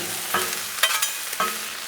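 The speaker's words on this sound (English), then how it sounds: "these mushrooms back here stirred up" Mushrooms frying on a Blackstone griddle get stirred with a spatula, giving three or four quick scraping strokes over a soft, steady sizzle, close by and fairly quiet.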